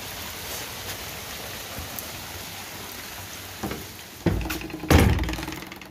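Steady heavy night rain hissing throughout, with a few louder knocks and bursts of splashing toward the end.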